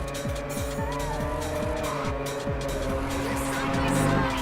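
A car drifting in Ridge Racer 7: a continuous engine roar with a repeating pulsing rhythm and a steady, high tire squeal layered on top, loud and close.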